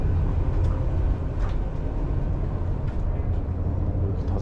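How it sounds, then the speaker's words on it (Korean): Interior of a first-class car on a Chinese train in motion, a steady loud low rumble and rolling hum with faint rattles, continuous throughout and no talk. "난생 처음 중국 기차 1등석에 타봤습니다"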